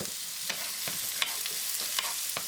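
Beef fillet sizzling in a pan as melted butter with rosemary and thyme is spooned over it, a steady hiss broken by soft, regular spoon strokes.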